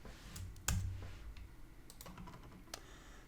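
Keyboard keys clicking as placeholder text is typed on a computer, a loud thump near the start and then a few light, scattered taps against faint room noise.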